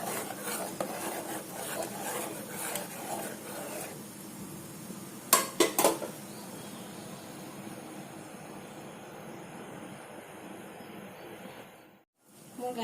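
A spoon stirs a sugary mixture in a pan to melt the sugar, for a homemade sweet alongside chui pitha. Repeated scraping strokes come first, then a couple of sharp metallic clinks, and the sound fades quieter afterward.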